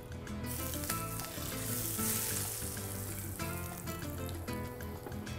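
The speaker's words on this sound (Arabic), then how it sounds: "والسمنه لانه هلا سخنه احلى شيء فيها انه طشه تبعها" Hot ghee poured over fatteh, a layered dish topped with cumin, paprika and pine nuts, crackles in a loud, steady close-up sizzle with bubbling spatter and no talking.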